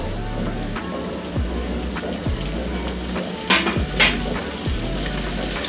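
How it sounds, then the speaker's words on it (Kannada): Chopped tomatoes fry in hot oil for chole masala, giving a steady close sizzle and crackle with a few sharper pops and soft pan knocks throughout. "ಟೊಮೆಟೊ ಕೂಡ ಎಣ್ಣೆನಲ್ಲೇ ಫುಲ್ಲು ಫ್ರೈ ಆಗಬೇಕು."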